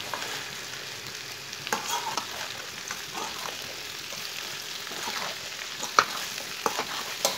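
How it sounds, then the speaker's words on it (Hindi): Okra fries in a pan with whole coriander, chopped green chillies and red chillies while a spoon stirs it. Soft, steady sizzling runs throughout, broken by irregular scraping clicks, with no voices. "अच्छी तरह मिक्स करके इसे 3-4 मिनट के लिए ऐसे ही भून लेंगे, चम्मच चलाते हुए"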